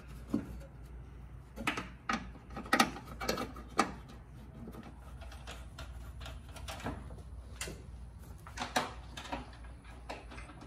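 Bolts go back into a Fiat 500 Abarth's radiator support: quiet irregular metallic clicks and ratcheting bursts, clustered early and again near the end, faint and close.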